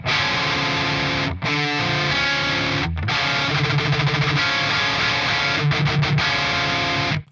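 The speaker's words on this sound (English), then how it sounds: "This is a minor major 7th power chord." Heavily distorted electric guitar plays a minor major seventh power chord, loud and sustained, with short palm-muted stops and chugging rhythmic hits between the held chords.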